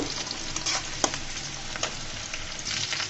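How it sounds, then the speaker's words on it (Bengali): Onions frying in oil until reddish for a radish-greens dish, giving a steady, dense close-up sizzle with a few soft stirring taps and no voices. "আমার পেঁয়াজগুলো লাল লাল করে ভাজা হয়ে গেছে"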